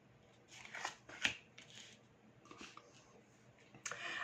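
Tarot cards being turned over and laid down on a table: soft papery swipes and light taps spread across a few seconds, close and quiet with no voices.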